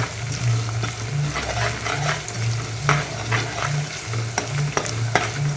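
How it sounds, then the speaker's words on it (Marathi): Onions salted and frying in a pan for a Punjabi gravy give a continuous sizzle with crackling pops. A low, pulsing hum of the stove runs steadily beneath, and no one speaks. "छान गोल्डन ब्राऊन करून घ्यायचा आहे आपल्याला कांदा"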